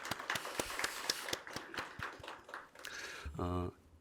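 Congregation members at a church Christmas thanksgiving service clap for a trio's performance. Distinct, scattered claps thin out and fade, then a voice begins speaking near the end.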